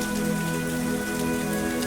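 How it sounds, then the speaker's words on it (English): Steady, dense rain pattering on a surface, a continuous even downpour close by with a low droning hum beneath, no voices. "Who cuts a channel for the torrents of rain"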